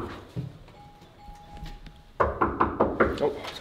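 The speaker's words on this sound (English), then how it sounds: "Knock on the door." Someone bangs on a door with a quick run of six loud, close knocks after a quieter stretch, and voices speak around them.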